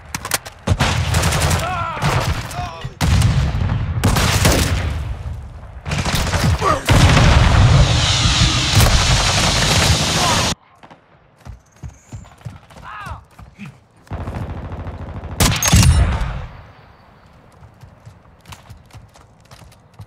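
Gunfire in the video game Call of Duty: Modern Warfare: dense, loud bursts of automatic fire and booms for about ten seconds, then sharper scattered shots with another heavy burst before it quiets.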